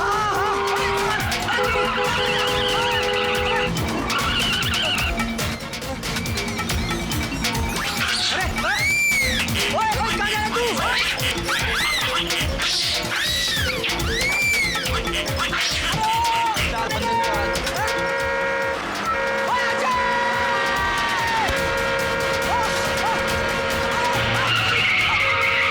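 A car skids while driven on two wheels, its tyres squealing in long rising and falling wails over a constant engine roar, loud and continuous, with voices and other busy noise mixed in.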